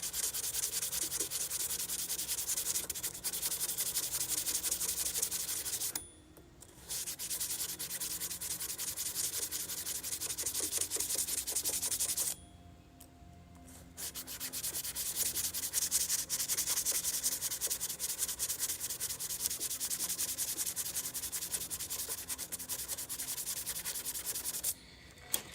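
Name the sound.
sanding cedar wood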